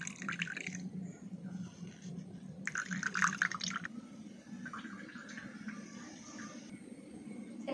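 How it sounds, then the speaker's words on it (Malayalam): Plant leaves being squeezed by hand to press out juice for traditional kajal making, giving soft wet squishes and drips in short bursts, fairly quiet and close, with no talk. "നമുക്കേ ഇത് പിഴിഞ്ഞ് ഇതിൻ്റെ നീരെടുക്കാം."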